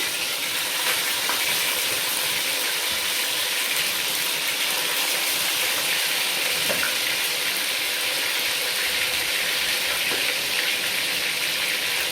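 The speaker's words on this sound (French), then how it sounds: "maintenant on va commencer la friture du poulet" Steady, dense sizzling of chicken frying in hot oil for Senegalese thieboudienne, continuous crackle with faint clinks of utensils, close and fairly loud throughout.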